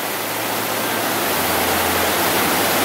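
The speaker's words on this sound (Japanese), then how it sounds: "その下を川が流れてる、ナチュラルブリッジでございます。" A river in high flood rushes beneath the Natural Bridge rock formation in Yoho National Park, a loud, steady, broadband roar of churning water with no voices.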